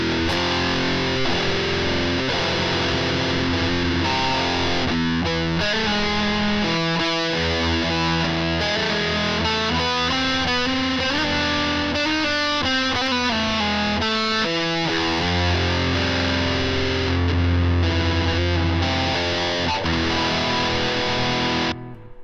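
Electric guitar played through a distortion pedal model on a Fender Tone Master Pro, thick saturated chords and riffs ringing continuously and loud, with no talking.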